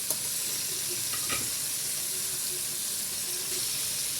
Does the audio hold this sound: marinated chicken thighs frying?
yes